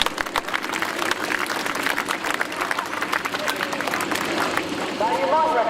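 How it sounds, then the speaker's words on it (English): An outdoor display crowd claps, scattered and fairly distant, continuing for several seconds with some background chatter and a voice near the end. "how about we have a bit of a round of applause from there?"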